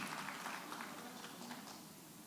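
An audience at an event on ending violence against women and girls claps, a faint, dense patter of many hands that slowly tapers off.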